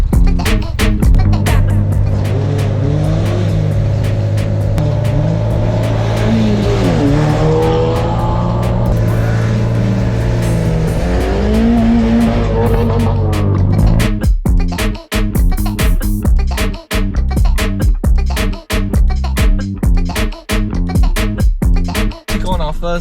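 A Mazda MX-5 fitted with a new ram-air performance air filter, loud and close, with the engine droning and revving up through the gears, then pulsing with repeated throttle blips and gear changes.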